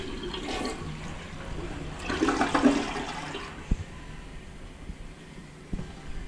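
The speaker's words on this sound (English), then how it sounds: "So it flushed fine." A toilet flushes with a rushing surge of water that swells and then fades into tank refill trickling, with a few light knocks near the end, recorded close in a bathroom.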